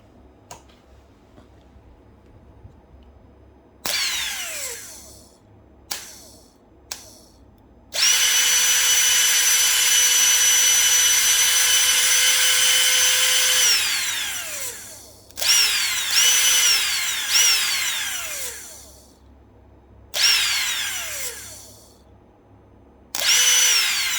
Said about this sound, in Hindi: मोटर को ये रन करता है और मोटर की आपको आवाज़ भी आएगी